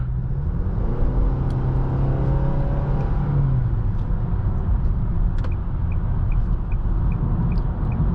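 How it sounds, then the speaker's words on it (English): A 2024 Nissan Sentra SR with an Xtronic CVT accelerating, a steady rising engine drone with stepped, simulated-shift pitch changes heard from inside the cabin, continuous and moderately loud throughout. "Now we can really see that CVT get up to speed here."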